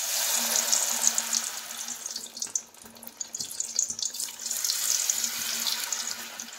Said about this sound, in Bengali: এবার এই পুর ভরা শিমগুলোকে আমি এই ব্যাটারে ভালো করে এভাবে ডুবিয়ে নিয়ে আমি এই তেলের মধ্যে দিয়ে দেব।